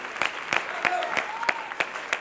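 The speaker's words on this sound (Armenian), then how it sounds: "Ծափարում ենք ևս մեկ անգամ" Audience clapping at a dance competition gala concert, heard as steady rhythmic claps about three per second with a faint tonal sound behind them, moderately loud throughout.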